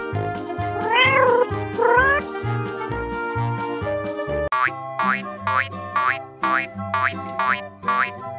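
A cat meows in a couple of rising, wavering calls, set against bouncy cartoonish music with repeated boing-like notes that carries on after the meows end.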